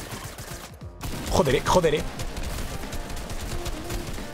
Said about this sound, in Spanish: Que nos están tirando tiros, chicos. Nos están tirando tiros.